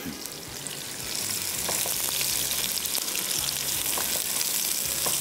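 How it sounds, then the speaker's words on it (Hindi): Sliced onions hit hot oil and fry with a dense, continuous hiss that swells louder after the first second and holds steady, close and alone. "तेल जैसे ही गर्म हुआ, सबसे पहले इसमें शामिल करेंगे स्लाइस किया हुआ प्याज, और इसकी फ्राइंग शुरू हो जाएगी।"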